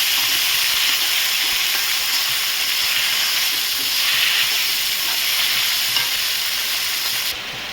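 Tomatoes frying with onions in a pan give a steady, bright sizzle and hiss that stays constant and fairly loud, then drops slightly at the very end.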